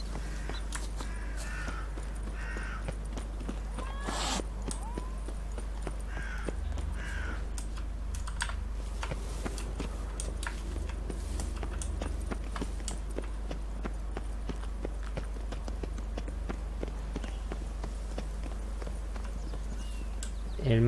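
Hooves clip-clop in The Witcher 3, a soft, irregular patter of horse steps mixed with game ambience, a low steady hum and occasional sharper clicks and bird caws, fairly quiet throughout.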